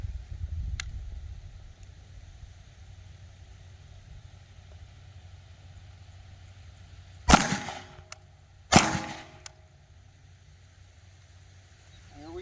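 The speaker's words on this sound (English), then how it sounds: "2 shots." Two sharp gunshots from a 5.7x28mm firearm during an outdoor ballistic test, the loud cracks about a second and a half apart, each followed by a brief ringing decay over a quiet background.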